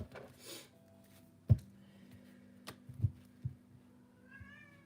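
A cat meows faintly at a distance in a quiet indoor room, giving a short rising call near the end. Soft knocks and handling thumps are scattered through the clip.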